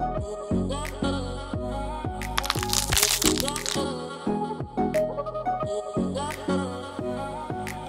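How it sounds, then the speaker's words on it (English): A big knife chops down the center of a turkey keel bone, a string of loud, close crunching cracks in a steady rhythm with brief pauses between strokes. "Chop right down the center of the kill bone and cut away any excess skin."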